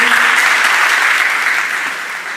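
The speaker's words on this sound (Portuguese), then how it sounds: "Palmas para a Roseli." An audience at a graduation ceremony for a worship arts company claps loudly in a close, dense burst that fades slightly toward the end.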